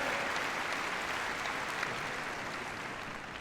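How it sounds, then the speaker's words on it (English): An audience applauds after a dog heelwork-to-music freestyle routine at the Crufts international competition, a steady, dense roar of clapping filling a large hall and fading slightly toward the end. "a big round of applause"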